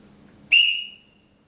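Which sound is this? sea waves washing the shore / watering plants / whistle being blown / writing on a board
whistle being blown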